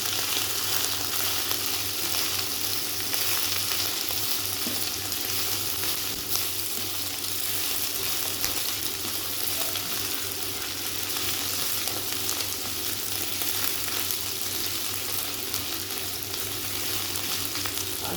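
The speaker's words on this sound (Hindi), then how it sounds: "अब इसके अंदर डालेंगे जीरा। जीरे की भी हम अच्छी तरह बुनाई करेंगे।" Cumin seeds frying in hot oil for potato bhujia, a continuous, even, close sizzle with faint stirring scrapes throughout and no talk.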